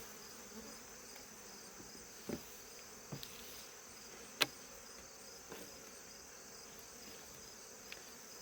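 A soft, steady buzz of honeybees around an open hive hums in the background, with a few short clicks and taps standing out now and then.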